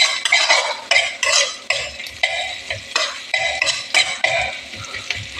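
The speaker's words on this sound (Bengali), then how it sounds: "30 সেকেন্ডের মতো আমি এটা ভেজে নেব" Rice flakes frying with turmeric and chili powder in a pan, stirred with a utensil in steady scraping strokes, close and fairly loud, with brief sizzling between the clatter and no voices.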